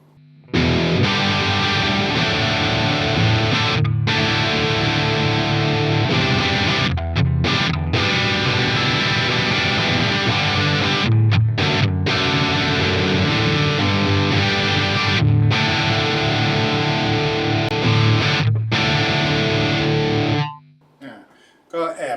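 An electric guitar is played hard through the distortion channel of a Brunetti Pleximan amplifier, producing a thick, loud, sustained overdriven sound broken by brief stops before it cuts off near the end.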